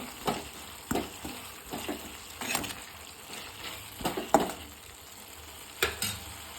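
A spoon stirs cabbage with turmeric powder in a pan, making irregular scraping strokes over a soft sizzle, close and quiet, with no talking.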